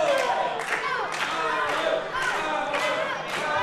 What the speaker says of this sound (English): Crowd here at the Pentagon chanting for Theodore Powers